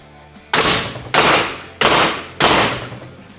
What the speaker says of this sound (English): Now we'll do a couple test shots into my workbench here